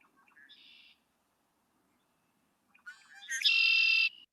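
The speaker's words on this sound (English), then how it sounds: "Number 2 was red-winged blackbird, which is hopefully easy for, because we've got a lot of them" Red-winged blackbird singing outdoors in Gillson Park, a short call followed after a pause by a louder buzzy, trilling song phrase, fairly close with no talking.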